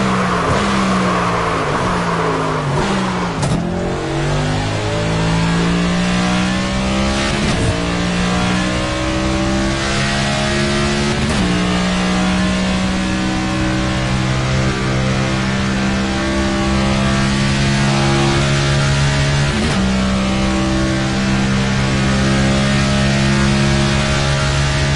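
Race cars in the NASCAR 25 video game, a loud, continuous engine roar rising and falling through repeated revs and gear shifts, with sharp drops at each shift and no voices.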